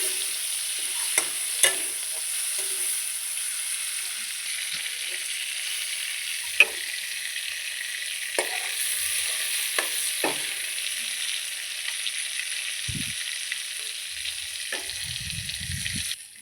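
Prawns frying in hot oil for a Bengali milk-prawn curry give a steady close sizzle throughout, with occasional sharp pops and spatters and a few low stirring scrapes near the end.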